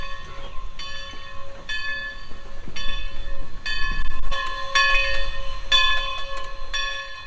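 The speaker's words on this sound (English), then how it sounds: "the engine is running around the train to get ready for its 1:30 departure" Everett Railroad steam locomotive running around its train at a station before departure: a steady low rumble with clear ringing tones struck again and again at a fairly even beat, moderately loud and close.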